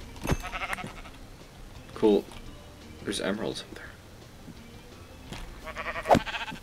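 Video game sheep give several short bleats, spread out and fairly close, while a person talks quietly over them.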